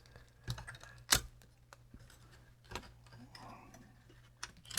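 Keys clatter on an Epson PX-8 portable computer keyboard during a teardown, a few sharp isolated clicks and one louder snap over a low steady hum, sparse and close.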